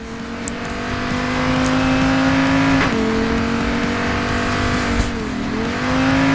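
A car driven in the video game Payday 2, its rear end prone to sliding out, holds a steady loud engine drone with shifting pitch and brief dips as it accelerates, with no talk over it.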